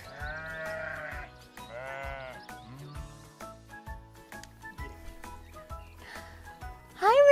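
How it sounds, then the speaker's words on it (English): Several loud, wavering sheep bleats close by, separated by pauses, with a higher squeaky call at the end. "It's a sheep."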